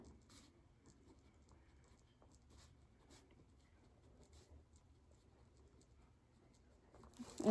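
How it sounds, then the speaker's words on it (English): Pen scratching on paper, soft and close, a faint steady patter of strokes in a quiet room, ending with a louder rustle. "Let me write that down."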